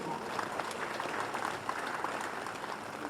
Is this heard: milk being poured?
no